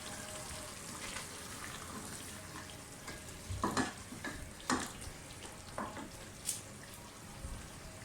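Masala and raw fish fry in a pan for Urdu-style fish curry, giving a soft continuous sizzle with a few louder scrapes and clatters from stirring, close and low in level.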